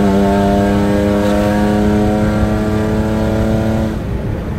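A BMW E36 with an aftermarket valvetronic exhaust revs steadily with a deep, droning six-cylinder tone, held loud and close for several seconds before the pitch drops away.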